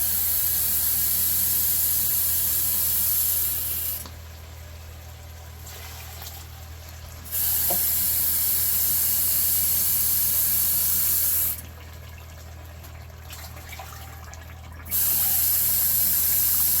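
Water poured in a steady rush from a tap or jug into a large soup pot for Tuscan soup, filling loudly in two long bursts separated by quieter pauses, with no talking.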